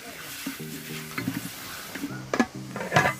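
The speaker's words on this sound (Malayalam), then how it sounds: "ഇട്ട ഇൻഗ്രീഡിയൻസ് എല്ലാം ഒന്ന് എണ്ണയിൽ നമുക്ക് നല്ല രീതിയിൽ വഴറ്റിയെടുക്കാം" Onion, tomato and other ingredients sautéing in oil for kudukkachi biryani, with soft sizzling under repeated stirring scrapes and a few louder spoon clatters against the pan, close up; a voice briefly speaks in the background.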